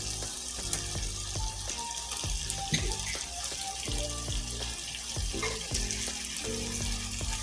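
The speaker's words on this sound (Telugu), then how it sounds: "8 ఎగ్స్ దీంట్లో వేసేసుకుంటున్నా నేను." Eight eggs go into sizzling masala for a drumstick egg curry, with a steady frying crackle under scattered knocks and clinks from the pan and utensils.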